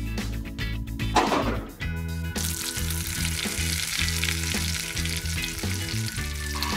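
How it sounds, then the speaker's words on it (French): Ground meat sizzles loudly in a frying pan, a steady crackling hiss that starts after a brief clatter and continues without pause to the end. "Je mets la viande hachée ensemble. Et on va la cuire. Là. Dans la poêle."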